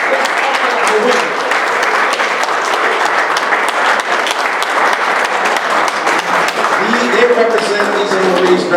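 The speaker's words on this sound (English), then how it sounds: "Turn to all the women in the audience and just give them a round of applause" Loud, sustained audience applause for the women in attendance at a program event, dense clapping filling the hall throughout with voices and cheers rising over it near the end.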